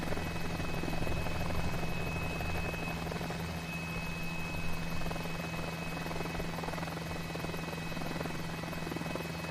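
Helicopter in a flight simulator game: a continuous loud rotor and turbine drone with a steady whine and fast chopping beat throughout, alone with no voices.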